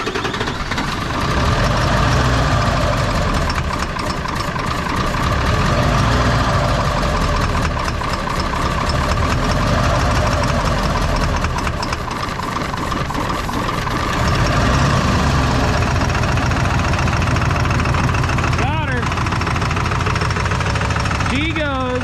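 Close, loud and continuous, a worn-out 7.3 diesel truck engine runs with a rough, clattering knock, its level shifting slightly partway through, while a person talks over it.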